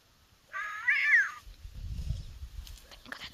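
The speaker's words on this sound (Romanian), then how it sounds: "Avem aici o pisică" A cat out on a rainy bike ride gives one clear, wavering meow, followed by low rustling and handling noise nearby.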